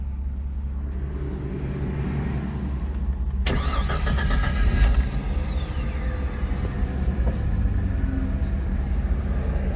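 A Jeep Comanche MJ engine cranks and catches at about 3.5 seconds, then runs at a steady, close idle with a low rumble, after a quieter stretch of faint background noise.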